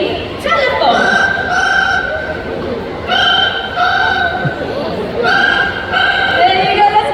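A parrot at a bird show at Bird Paradise Singapore mimics a ringing telephone in three clear, buzzing trill bursts with pauses between them, heard above a murmuring crowd.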